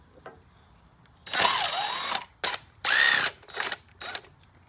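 A cordless drill fitted with a socket adapter runs in reverse to loosen engine cover bolts on an Acura TSX. It gives several loud whirring bursts of varying length, close up, with short quiet gaps between them.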